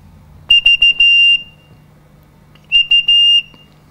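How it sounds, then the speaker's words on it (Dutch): A single organ pipe, a rohrflöte or chimney flute from a renovated church organ, is blown in short bursts: several quick toots and then a held note, a pure high whistle-like tone, with a pause before a second group. "Het fluitje, de roerfluit."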